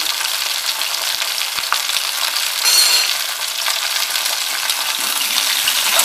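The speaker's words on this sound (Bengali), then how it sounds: "পটল আর ঢেঁড়সটা আমি একসঙ্গেই ভেজে নেব। নাড়াচাড়া করে লাল লাল করে ভেজে নেব।" Pointed gourd and okra fry together in hot oil with a steady, loud sizzle, as a spatula stirs and scrapes the pan with light clinks, and no voices are heard.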